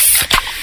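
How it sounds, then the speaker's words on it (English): A freshly opened can of fizzy Pepsi gives one close, loud hissing burst of escaping gas with a brief crack at the pull tab, then settles into a steady fizz. "that's the sound of a freshly opened fizz-filled Pepsi"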